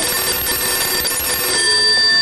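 A telephone rings loudly and continuously at close range, a steady electronic trill with no voices over it.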